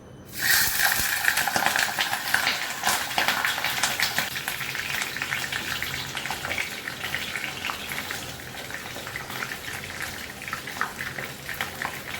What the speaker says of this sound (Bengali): সরষের তেলের রেসিপিটা হবে ডিম ভাবাটা একটু ভেজে নেবো